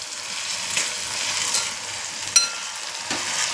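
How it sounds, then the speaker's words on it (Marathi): Ginger garlic chili paste sautés in oil with tomatoes for a dhaba-style vegetable gravy, a continuous soft sizzle close by with an occasional sharp spatter pop, no voices. "त्याला आता परतवून घेतोय"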